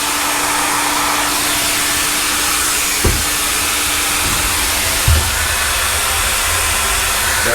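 The blower on a Trinco sandblasting cabinet runs with a continuous loud, even roar and hiss, broken by a couple of faint clunks.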